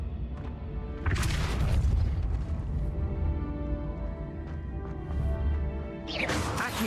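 Depulso force spell cast in Hogwarts Legacy, heard as a heavy booming blast with a crashing burst near the start and another impact toward the end, over a layered game soundscape.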